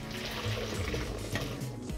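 Red cabbage juice being poured through a strainer during a kids' science experiment, a steady, close liquid trickle and splash lasting about two seconds with no talking.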